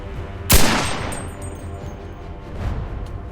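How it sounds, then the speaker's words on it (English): A single loud rifle shot fired at a shooting range in the game Enlisted, with a sharp crack followed by a long decaying echo, then a fainter distant impact or second report about two seconds later. "So I'm shooting at the top of the land feature"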